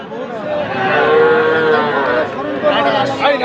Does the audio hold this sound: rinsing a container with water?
no